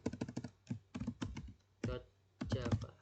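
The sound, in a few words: typing on a computer keyboard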